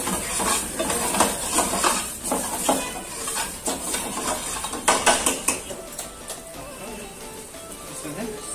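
Chopped tomatoes go into a pan of roasted flour for restaurant-style tomato soup, giving a soft hissing sizzle and clinks of a spoon against the pan, with a voice talking over it.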